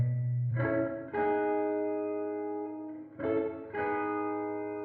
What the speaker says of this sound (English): Room reverb.